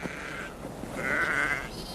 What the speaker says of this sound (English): What Jess is doing now is she's rounding up the sheep to bring to me